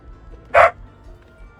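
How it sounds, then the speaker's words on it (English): In the fantasy strategy game Age of Wonders 4, a dog gives one short, bright bark over quiet background game audio. "Oh, there's my doggy."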